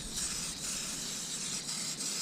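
WD-40 spray can hissing onto parts of a 1974 Ford F-250's inner fender and core support, a steady close broadband spray held for a couple of seconds with brief dips.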